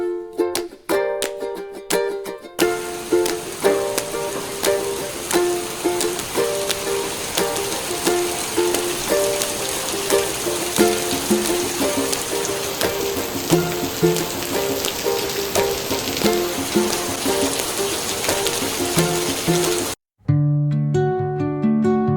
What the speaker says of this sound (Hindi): अभी बारिश नहीं रुक रही है।